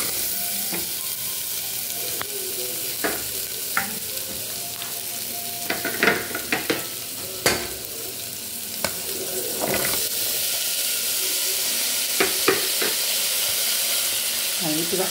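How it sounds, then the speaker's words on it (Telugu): Vegetables, including turnip, fried in a tablespoon of melted butter in a pan, a constant soft sizzle with scattered clinks and stirring scrapes, no voices over it. "మన ఈ వెజిటబుల్స్ని ఫ్రై చేసుకోవాలా?"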